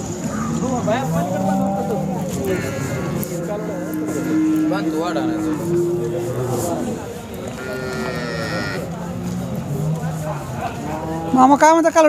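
Cattle at a Khillar cow market in Sangola, Maharashtra, moo repeatedly in long, drawn-out calls, fairly close and clear, while people talk in the background throughout.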